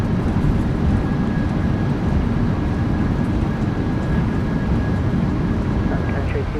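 A PMDG 737-800 in the MSFS2024 simulator decelerates on the runway with thrust reversers deployed, giving a loud, steady broadband engine roar.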